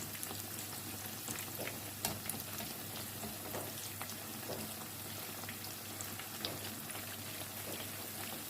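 Eggplant pakoras fry in hot oil with a dense, steady crackling sizzle that persists throughout, and faint occasional taps as the pieces are turned over, close and fairly quiet.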